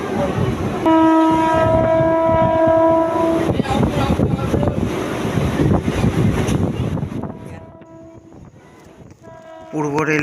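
A train on the Katwa–Ahmadpur branch of Eastern Railway sounds a long, loud horn blast, then rumbles and clatters past with wind buffeting, and the horn sounds again briefly at the end.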